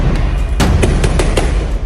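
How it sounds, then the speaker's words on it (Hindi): Gunfire rings out amid clashes in the West Bank as an Israeli army vehicle arrives, several sharp, loud bangs spaced irregularly over a dense, noisy background in news footage. "गोलियों की आवाज सुनाई देती है"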